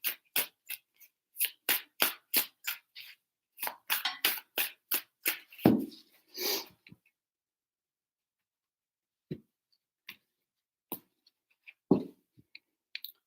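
Tarot cards being shuffled by hand for a daily reading, a quick run of crisp riffling slaps and taps for about seven seconds, then a few sparse soft card sounds in near silence.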